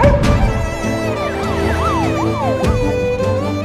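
A loud ambulance siren wails in repeated rising and falling sweeps over a steady droning background.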